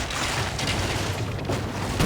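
Ship weapons fire during a naval battle in the video game Assassin's Creed Origins, a loud, dense, continuous roar of booming blasts with no clear gaps between shots.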